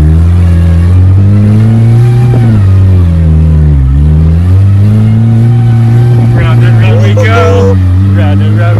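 A Saturn car engine revs hard and steadily while doing burnout donuts, a loud continuous drone that rises and dips in pitch, with tire noise and excited voices toward the end.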